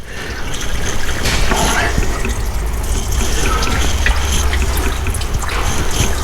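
Coolant drains from the reservoir of a 2018 Ford F-150 3.5 into a bucket, a steady, loud gurgling splash that runs without a break under workshop noise.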